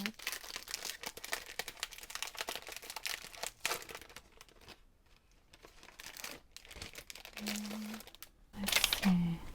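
Plastic project sleeves from a craft kit crinkle and rustle as they are handled up close, in a steady soft stream with brief pauses, and a person talks over part of it.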